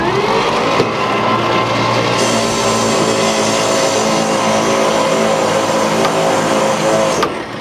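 An abandoned 1949 Dodge engine runs steadily at close range, a loud continuous rumble with a faint whine, its pitch shifting slightly early on before the sound drops off at the end, with no talk.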